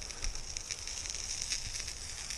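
Duck breast sizzles in a pan at a winter bivouac camp, a steady close hiss of frying fat with faint crackles and no voices.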